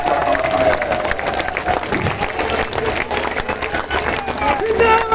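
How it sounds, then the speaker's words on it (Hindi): A large crowd claps steadily and loudly, with cheering voices and general hubbub mixed into the sustained applause. "एक बार हाथ उठाकर तालियां बजाकर बता दीजिए"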